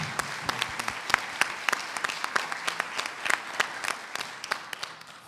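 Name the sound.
audience applause for workshop leaders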